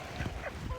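Ducks and chickens being fed whole and cracked corn give brief, close honking quacks and low calls in a quick cluster, with no talking.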